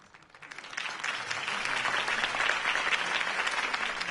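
A crowd applauds a campaign speech in a Batman video game scene, with clapping that starts softly and swells within half a second into loud, sustained applause that holds steady to the end.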